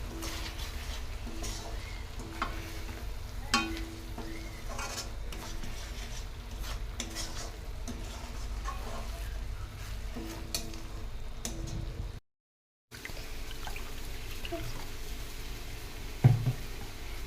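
Potatoes with spices and a little water stirred in a pan give a soft, continuous sizzle with faint ticking and scraping of the spoon, one brief gap of silence and a small clank near the end.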